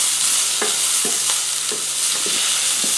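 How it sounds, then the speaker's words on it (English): Onion sautés in a pan for fenugreek curry rice, a constant loud sizzle broken by several sharp spoon-against-pan stirring taps spaced roughly half a second apart. "Sauteing it until you see a glassy onion."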